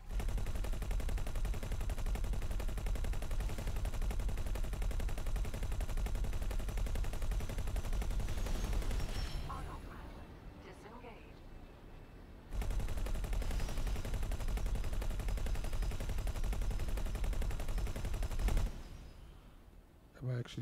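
Ship weapons fire continuously in the space game X4: Foundations, a dense, loud barrage broken by a pause midway, then resuming before trailing off near the end.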